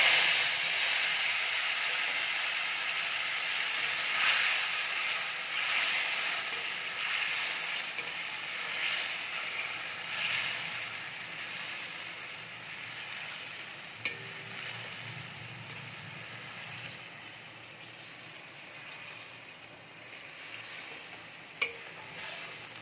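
Fresh tomato paste made from two tomatoes fries in a pan for a potato-and-onion-free soya bean curry, giving a steady bright sizzle and hiss with occasional faint spoon clicks.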